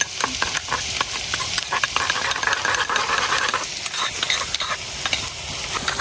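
Ground turmeric, coriander, dried chilli powder and salt sizzle in frying onions in a pan, a close, steady hiss broken by repeated scraping stirs.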